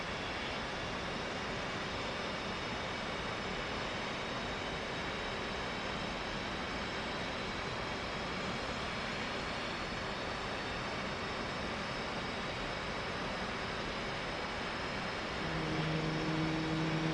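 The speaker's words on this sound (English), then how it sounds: "there's our Hornet howl" F/A-18C Hornet jet engine in the DCS flight simulator spooling up from start toward idle, a steady broadband howl and whine with thin tonal lines, continuous and even, swelling slightly louder near the end.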